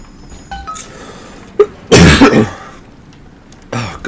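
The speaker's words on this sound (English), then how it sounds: "Oh, goddamn cough." A single harsh, close cough bursts out mid-way through Bioshock 2 gameplay, with a few smaller throat sounds and clicks before and after.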